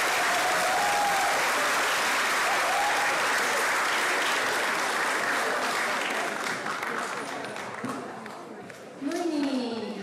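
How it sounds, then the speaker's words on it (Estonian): Big, sustained applause from a school audience after a playback performance at Lääneranna Gümnaasium, thick steady clapping that gradually thins out before a voice speaks over the tail. "Ja nüüd suur aplaus ka kindlasti."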